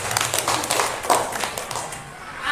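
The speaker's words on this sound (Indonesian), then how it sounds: "Oke, beri tepuk tangan" A class of pupils claps hands together in a quick, busy patter of many palms, fairly close and steady for a couple of seconds before thinning out.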